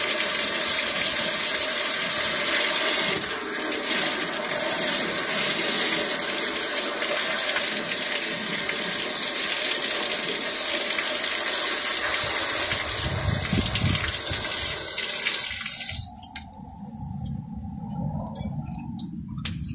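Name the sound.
water pumped into a frame, mud gushing out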